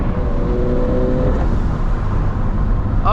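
A turbocharged Subaru BRZ accelerates hard during a race against a modded G35 coupe, its engine note rising loud and close with a whirring turbo layered over a constant roar. There is no talking.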